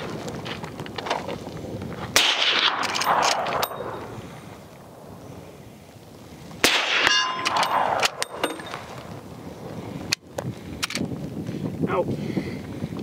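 A Henry X Model .45-70 lever-action rifle firing Hornady 325 FTX rounds at a steel target 100 yards away, giving sharp reports followed by distant metallic clangs, with people talking outdoors between shots.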